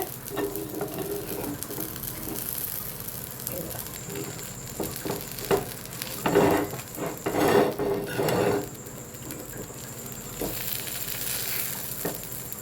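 A masala dosa cooking on a pan and being flipped, with soft sizzling under clattering scrapes and taps of a spatula, a few sharper knocks in the middle, close and moderately loud.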